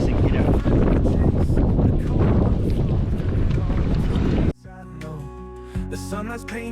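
Strong, steady wind roars and buffets across open water during winter bass fishing from a kayak, loud and continuous before abruptly dropping to quieter tonal background.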